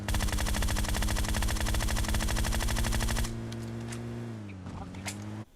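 Rapid automatic gunfire from the PUBG video game, a loud sustained burst for about three seconds that then stops, leaving quieter game ambience with a few faint clicks and a voice.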